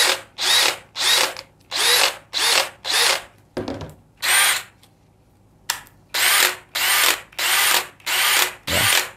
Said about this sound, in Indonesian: Misalnya posisi chuck-nya kita kencangkan, ini biasanya menimbulkan bunyi akhirnya